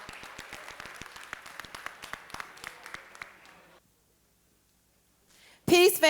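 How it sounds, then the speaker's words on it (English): Scattered audience clapping at a school nonviolence and peace day event, a run of sharp individual claps for about four seconds that stops abruptly, then a short loud burst of noise at the end. "Y'all clap it up for Miss Haynes, y'all."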